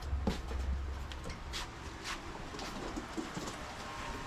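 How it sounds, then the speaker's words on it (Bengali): A female Napta pigeon gives low, soft cooing calls, close by, amid faint rustling and background noise from birds in boxes. "এটা হচ্ছে একটা নাপ্তা মাদি কবুতর"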